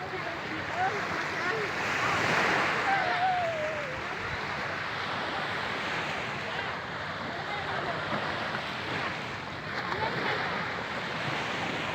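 Sea waves wash onto an empty beach early in the morning, a continuous, fairly loud surf roar with a few swells, and no speech heard over it.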